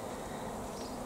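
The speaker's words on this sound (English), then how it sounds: "the bees are gradually going in through the entrance there" Honeybee swarm at a hive entrance, a dense continuous buzzing hum filling the short moment, close and steady without voices.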